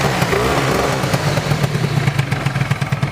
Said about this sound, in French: Il démarre comme tous les scooters.